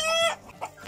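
A rooster makes a short, close clucking call, a strained crow-like note dropping into throaty clucks, heard clearly with no talking.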